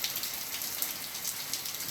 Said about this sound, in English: Let me check out this rain.